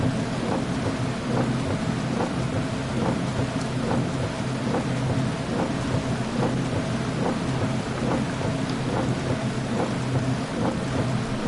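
Steady heavy rain with rolling thunder in the Dirt Rally 2.0 racing game, a dense, loud, continuous wash with no breaks.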